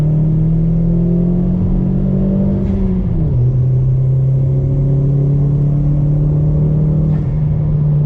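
A Chevrolet Sonic Turbo pulls hard on throttle in second gear, its engine note rising steadily, dipping briefly at a shift-like break, then climbing again; loud, close and continuous from inside the car, with no talking.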